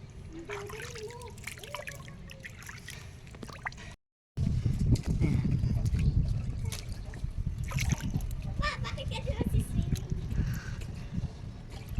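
Water sloshing and splashing with trickling sounds in a residential swimming pool, mixed with voices talking nearby; a brief silent gap breaks it early on.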